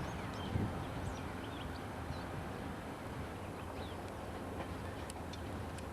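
A passing train makes a steady, muffled rumble of wheels on rails, heard from a distance at low volume with no voices.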